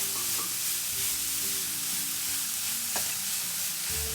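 Carrots fry with salt in a pan for carrot rice, giving a steady, close sizzle with scraping stir strokes throughout.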